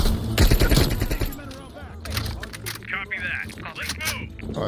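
A big mounted gun fires in Call of Duty Black Ops Cold War. A loud, rapid burst of shots rings out at the start, then echoing battlefield noise and warbling effects continue under talk.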